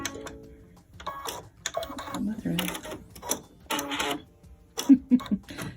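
A sewing machine's needle is brought up with short mechanical clicks and whirs in a quiet room, mixed in among a woman's speech.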